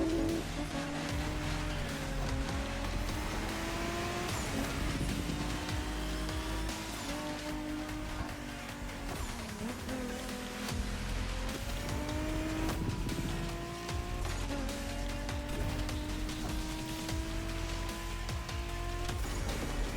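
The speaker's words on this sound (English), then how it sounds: "racing these Japanese drift masters" Japanese drift cars racing in The Crew Motorfest: several engines rev and shift continuously, with rising and falling whines, squealing tyres and cars sweeping past, loud and dense throughout with no talk.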